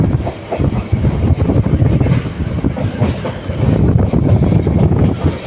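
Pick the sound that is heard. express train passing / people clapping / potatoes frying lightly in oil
express train passing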